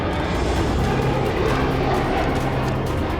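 Tu-22M3 supersonic bomber in flight, a steady broadband jet roar that stays loud and constant throughout, with no voices over it.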